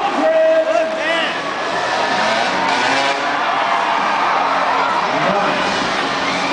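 A large crowd roars and cheers at an indoor monster truck freestyle show, a dense continuous wash of shouting with engine noise underneath and a commentator's voice over it.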